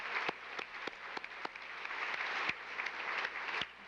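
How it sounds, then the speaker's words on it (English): Applause from a dinner audience at a YMCA youth event, with faint, scattered claps and a few sharper ones standing out, heard at a distance with no talking. "a big round of applause for Linda as well"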